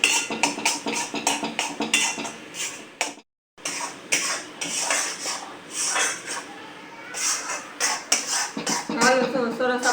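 Gram flour for mohanthal is roasted in a pan, with a spoon repeatedly scraping and clinking against the metal in quick, irregular strokes and a brief pause partway through.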